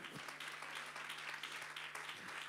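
Church congregation applauding during a service, a steady, fairly faint wash of many hands clapping with a low hum beneath.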